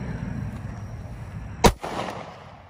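A single loud gunshot fired at body armor outdoors in a backyard, one sharp close crack followed by a short echoing tail, with low rumbling background noise around it.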